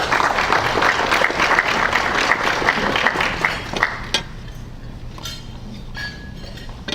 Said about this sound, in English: Let's give Charles a hand